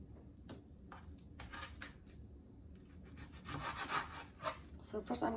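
Knife slicing raw pork into centimeter-thick pieces for Indonesian sweet pork satay, giving soft repeated cutting and rubbing strokes on a board, close and fairly quiet, with occasional light utensil clinks.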